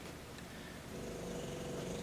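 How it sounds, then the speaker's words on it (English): Dog snoring softly in the background indoors, a faint, steady rasping breath that grows slightly louder partway through, with no talking. "apologies for the snoring dog in the background"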